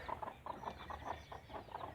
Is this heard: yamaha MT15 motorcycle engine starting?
no